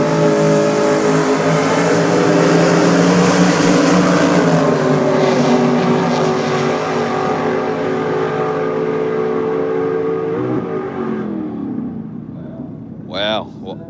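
Supercharged 350 Chev-powered Holden Torana drag car racing at Sydney Dragway, a loud sustained engine roar with rising harmonic tones as it accelerates, fading after about eleven seconds to a brief distant rev at the end.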